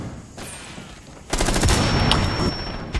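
Gunfire in the video game Rainbow Six Siege, a loud, sustained automatic burst of rapid shots lasting about a second and a half, close and dense.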